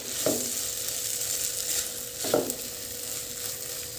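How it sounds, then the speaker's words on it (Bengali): Tomato sauce is stirred into a fried spice mix in a pan, with a soft continuous sizzle and two distinct scraping strokes of a spoon against the pan. "এবার সসটাকে দিয়েও খুব ভালো করে মিশিয়ে নিতে হবে"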